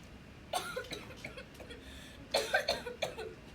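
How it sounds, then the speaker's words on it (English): Several short, raspy coughs in two bursts, close and moderately loud, with a quiet pause between them. "You go ahead and cough all you want."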